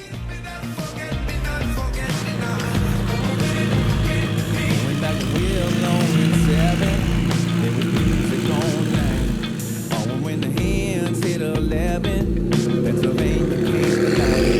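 A McLaren MP4-12C supercar drives with a loud, steady engine drone and shifting tones heard from inside the cabin, while a voice talks over the engine noise.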